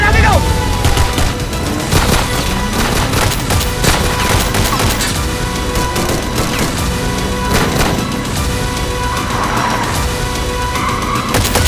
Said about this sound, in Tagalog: Putukan tayo!